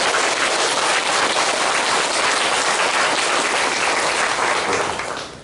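A church congregation in Pyeongtaek gives loud, sustained applause of thanks during a Sunday worship service, dense steady clapping that fades slightly at the very end.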